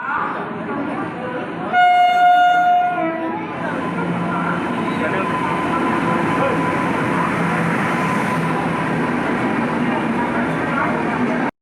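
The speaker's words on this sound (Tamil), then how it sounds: "நாங்கள் வீட்டுக்கு போகிற ட்ரெயினும் வந்துருச்சுங்க" A train rolls into a railway station in Bhubaneswar with a steady loud rumble; a short horn blast sounds early, and people talk faintly in the background.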